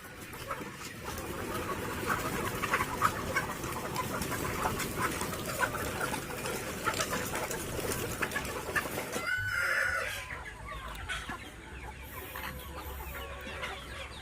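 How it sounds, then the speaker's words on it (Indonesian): Layer hens about sixteen weeks old cluck steadily in a noisy farm setting, with scattered calls and a rooster crow near the end, fairly close and continuous. "Update terbaru dari ayam petelur kita yang kemarin."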